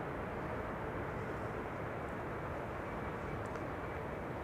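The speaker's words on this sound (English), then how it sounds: "This is KLM flight 1230, number 175, arriving from Göteborg" Aircraft noise at Amsterdam Schiphol as KLM flight 1230 arrives from Göteborg on runway 06, a steady, broad roar holding at a constant level throughout with no talk.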